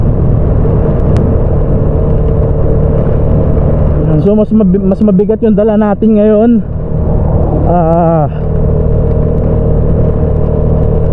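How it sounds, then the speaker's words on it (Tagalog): Vespa S125 scooter engine labouring up a gentle incline with a heavy load, a continuous low droning rumble close to the rider, with someone speaking over it partway through. "Pero hirap na yung motor ko, bumabagsak na yun, 40 pababa"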